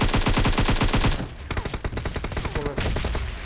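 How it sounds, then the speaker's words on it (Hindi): Enemy gunfire in a video game: a rapid automatic burst of about a dozen evenly spaced shots, loud and close, followed by scattered quieter shots and game noise. "ये देखिए आगे शॉट चला रहा है।"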